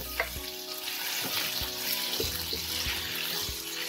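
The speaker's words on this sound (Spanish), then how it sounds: "Vamos a agregarle el conejo." Rabbit pieces drop into oil with browned onion and sizzle loudly and continuously, with a few soft knocks from stirring.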